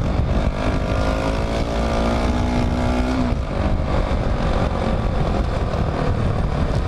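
A Crossfire RM 250 motorcycle with a modified exhaust roars loudly and steadily, its rising rev tone climbing then dropping off as it keeps running with a rough, throaty exhaust.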